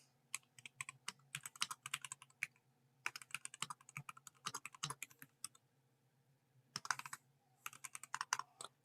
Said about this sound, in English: Right now I'm typing in my channel real quick.